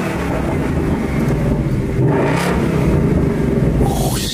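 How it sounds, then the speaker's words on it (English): A loud, steady engine rumble from a 2024 Ford Mustang Dark Horse with throaty exhaust in sport mode, rising slightly with a brief rev near the end, continuous throughout. "We got different exhaust modes on here"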